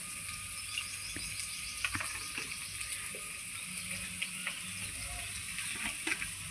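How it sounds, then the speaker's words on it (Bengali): Potato and drumstick pieces fry gently with salt and turmeric in a pan, a faint, steady low sizzle with occasional soft clicks and stirs, quiet and unvoiced. "এই লবণ হলুদ দিয়ে আলুটা সজনাটা আমি একটু ভেজে নেব"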